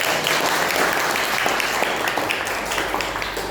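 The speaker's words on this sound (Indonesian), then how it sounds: "beri tepuk tangan untuk" A classroom of students applauds together in a lesson on levers, a dense, steady wash of clapping that holds at an even level from start to finish.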